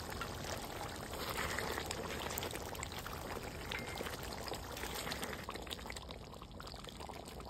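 Ghee poured into a pot of beef rezala, heard as a soft, continuous pouring hiss that lasts for several seconds, close and fairly quiet, with no talking.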